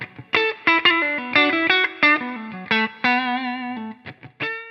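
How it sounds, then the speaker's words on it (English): A clean electric guitar played through a Victory V130 Super Countess amp, bright picked notes and chords in a quick melodic phrase with distinct attacks and short pauses, heard alone. "it can do really high headroom cleans."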